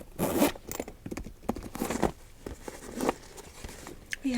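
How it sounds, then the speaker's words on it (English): Gold-toned zippers on a purse are drawn open in a close, quiet space, giving a run of rapid ratcheting zips and soft scraping rustles in several separate pulls, with no talking. "And then if we open up these 24 karat gold zippers"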